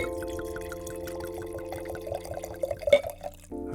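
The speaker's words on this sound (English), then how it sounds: "Go for that pour, Grandpa. Get that right in the mic." Wine glugs and trickles from a bottle into a glass without a pourer, a close, steady liquid stream with small splashy drips, set against a sustained background tone.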